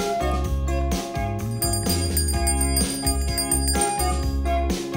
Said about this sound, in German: Eine Glocke?